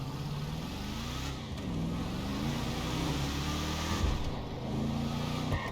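Car engine revving in GTA 5, using the same engine audio as the Hellfire, a steady mid-pitched drone with rising and falling pitch sweeps as the throttle changes, loud and continuous with no talk.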